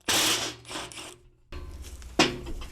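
Mechanical clicking and rattling from a socket wrench being worked against a stuck socket while a BMW E46 power steering rack is taken apart, in two close bursts separated by a brief pause.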